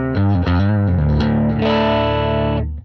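An electric guitar runs through a Logic Pro amp simulator set to an edge-of-breakup tone, playing loud, lightly overdriven chords that shift quickly and then ring out in one long sustained strum, with no talking.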